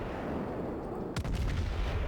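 Heavy naval guns of the battleship Wyoming fire in World of Warships, a deep booming blast midway through after steady low background rumble, followed by a rolling echo.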